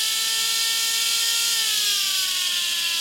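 Brushless motor from an RC upgrade whining loudly at a steady high pitch, then gliding downward in tone as it slows, a continuous close electric whine over a broad hiss, no voices.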